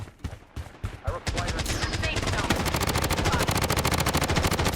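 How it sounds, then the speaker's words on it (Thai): Sniper and other gunfire in a battle royale shooting video game, starting with a few separate shots and then turning into a dense, loud burst of rapid automatic fire, with a voice briefly heard early on. "มีสไนเปอร์ยิง มีสไนเปอร์ยิงว่ะ"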